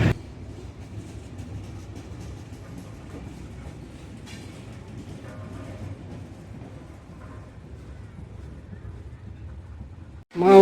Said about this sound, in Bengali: কিছুক্ষণের মধ্যে ট্রেন ছেড়ে দিল